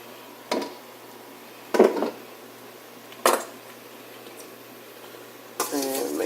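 Leftover ground hamburger meat and onions dropped into a pot, heard as a few separate clanks and scrapes against the pot spaced apart in a quiet kitchen, with a short bit of talk at the end.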